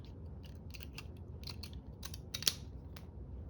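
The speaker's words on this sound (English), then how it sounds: "These are decal scissors." Close, quiet snips of fine decal scissors trimming thin paper, a quick run of light blade clicks with one sharper snap near the end, against soft room noise.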